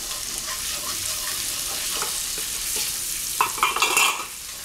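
Cauliflower with turmeric, sugar and seasoning being stirred in a pan, a close steady sizzle with repeated scraping strokes that grow louder and busier toward the end, no voices.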